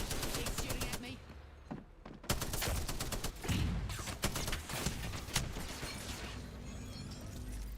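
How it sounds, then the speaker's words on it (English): Bursts of rapid automatic gunfire in the Apex Legends video game, loud and dense, with rattling volleys and a brief lull near two seconds, players' voices faintly mixed in. "He's shooting at me."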